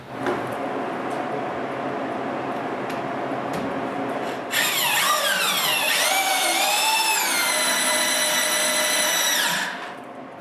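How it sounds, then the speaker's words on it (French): A power drill boring through wood to finish a hole for a mobile workbench: a low rumble, then a loud high whine that bends in pitch as the bit bites, ending abruptly. "puis je finis le trou."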